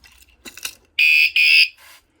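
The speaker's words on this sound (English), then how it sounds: "It'll beep, that means it's armed." An $18 motorcycle alarm gives two loud, steady electronic beeps in quick succession, each about a third of a second long, after a few brief clicks and rustles.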